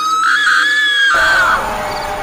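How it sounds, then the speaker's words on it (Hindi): Loud, sustained high-pitched shriek used as a scary horror-story sound effect, one long scream that rises, holds and trails off into a fading echo. "उसे डरावनी चीख की आवाज़ सुनाई देती है"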